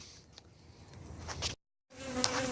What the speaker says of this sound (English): so now there's bees all over everywhere